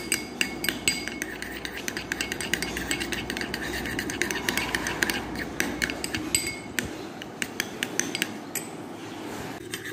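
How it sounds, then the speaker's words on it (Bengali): A spoon clinks sharply and rapidly against a bowl while yogurt is beaten for sweet doi, an irregular run of close metallic taps over soft kitchen background. "দইটা ভালো করে ফেটিয়ে নিয়েছি।"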